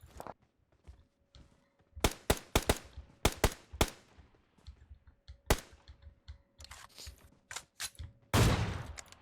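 Gunfire in PUBG Mobile cracks out in scattered sharp bursts and single shots, some close and loud and others more distant, with a heavier blast near the end and faint clicking between.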